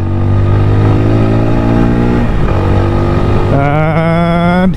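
A 2021 TVS Apache 160 4V motorcycle engine runs loud and steady while riding, dipping as the rear brake is applied around the midpoint, then revving back up with rising pitch toward the end.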